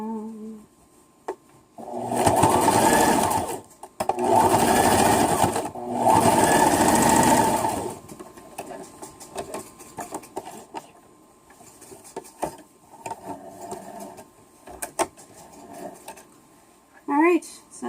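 Sewing machine stitching the side seams of a fabric sack, three loud sustained whirring bursts of about two seconds each, then quieter intermittent stitching and handling noises.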